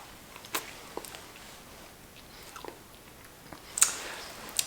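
Someone tastes chocolate mousse from a spoon, with soft, close, quiet mouth sounds and a few faint clicks in near silence.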